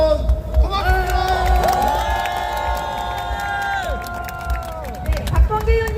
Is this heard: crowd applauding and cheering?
yes